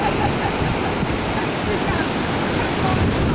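Huge ocean waves churn on a Sri Lankan shore late in the evening, a steady, dense roar of surf with no clear breaks, loud and close throughout.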